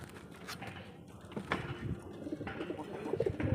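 A pigeon coos softly in a low, throaty murmur close by, with faint rustling and background noise and no talk.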